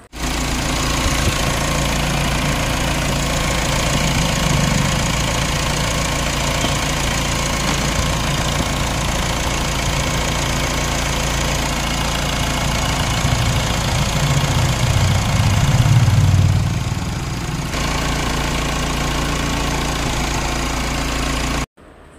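A Mahindra Scorpio SUV's diesel engine idles steadily and loudly up close, a continuous rumbling drone with a slight rise partway through before cutting off.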